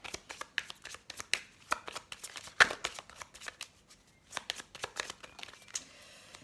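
Tarot cards from a Green Magic tarot's major arcana being shuffled by hand, a quick run of soft flicking riffles and slaps in irregular bursts, close and fairly quiet.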